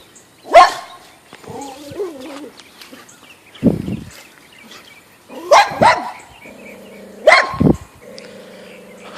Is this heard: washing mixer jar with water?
no